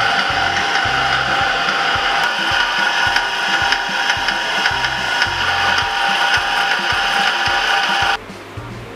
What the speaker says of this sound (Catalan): Doncs ara vaig a tallar la barra perquè com que no la necessitaré tota